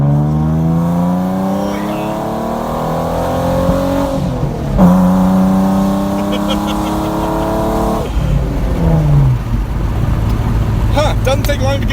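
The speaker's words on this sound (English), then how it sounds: "Doesn't take long to get to 60 in this car." A car accelerates hard toward 60 mph from inside the cabin, the loud engine note rising through gears with clear shift breaks around the middle, then settling into a steady, wind-heavy drone near the end.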